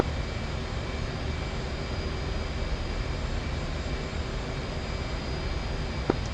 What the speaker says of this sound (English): it's a KC-130